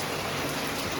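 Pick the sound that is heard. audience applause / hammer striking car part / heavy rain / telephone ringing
heavy rain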